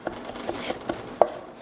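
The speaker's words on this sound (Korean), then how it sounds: "이렇게 한 번 더 칼에 붙어 있는 것을 모아 놓고 전체적으로 또 한 번 살짝 다져 주십시오" Kitchen knife finely mincing garlic on a cutting board, light taps repeating at an irregular pace for under two seconds, close and fairly quiet.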